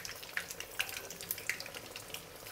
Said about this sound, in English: you'll just fry them 4 or 5 pieces at a time